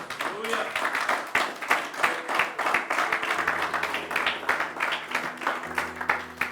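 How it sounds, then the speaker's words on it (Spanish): A church congregation claps in a rhythmic, pulsing burst of applause with distinct beats, while voices and a low sustained musical tone join partway through. "¿Cuánto le dan un fuerte aplauso al Señor?"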